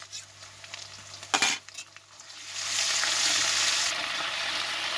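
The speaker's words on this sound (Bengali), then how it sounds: "দেখো পেঁয়াজটা ভাজা হয়ে এসেছে, এবার দিয়ে দিচ্ছি আদা রসুন একসঙ্গে বাটা।" Onions frying in a pan for potato curry, with ginger-garlic paste added partway; a sharp clatter of utensils near the middle, then a loud, steady sizzle that swells and holds to the end, with no talking.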